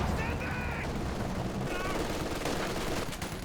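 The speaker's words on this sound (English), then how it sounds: "MG locking down this VP though." Rapid bursts of machine gun fire in a World War II real-time strategy match, dense and continuous beneath a caster's talk, with crackling shots layered over a steady rumble of battle.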